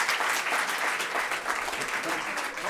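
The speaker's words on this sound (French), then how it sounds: "On vous applaudit." Audience applause at a live community event, a dense, steady wash of many hands clapping that holds at full strength throughout with no gaps.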